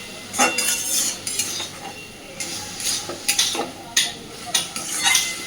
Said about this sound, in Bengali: গ্যাসের ফ্লেমটাকে মিডিয়াম টু লোতে রেখে একটু সময় নিয়ে সব কিছু সুন্দর করে কষাতে হবে